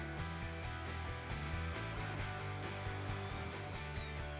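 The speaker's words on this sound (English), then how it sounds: "The cut is made again along the exact same line as before," A Festool ATF55 plunge track saw makes a beveled cut through wood, giving a steady, loud whirring and grinding that runs unbroken from start to finish with no talking.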